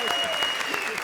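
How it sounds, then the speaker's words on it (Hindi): Studio audience applause on an Indian TV comedy show, a steady dense clapping wash throughout with voices mixed in. "जोरदार ताली बजाइए"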